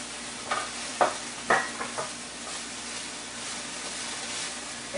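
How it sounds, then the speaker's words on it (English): Kale and cranberries stirred through a hot pan give a low, steady sizzle with a few sharp scraping clicks near the start, then settle into a soft continuous frying hiss, close by and fairly quiet. "Kale, give it a little stir."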